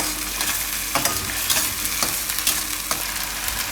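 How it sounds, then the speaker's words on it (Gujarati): Onion-tomato gravy cooking in oil in a pan for a Gujarati cauliflower and pea curry, a steady close sizzle broken by several soft scraping stirs at irregular intervals, with no talking. "તો ગ્રેવીને પાકવા દઈએ થોડીક વાર. તેલ છૂટું પડવા માંડે ત્યાં સુધી."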